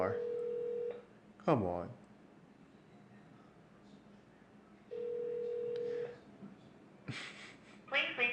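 Ringback tone of an unanswered outgoing phone call, two long steady rings separated by a pause, with a voice speaking briefly between them and other voices near the end.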